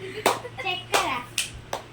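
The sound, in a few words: people clapping during a guessing game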